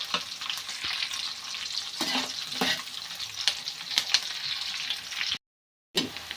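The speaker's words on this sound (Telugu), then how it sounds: "గోల్డెన్ కలర్ వచ్చేవరకు వేయించుకోవాలి." Ingredients fry in a pan until golden, giving a close, continuous sizzle with light scraping stirs and a brief dropout near the end; no one speaks.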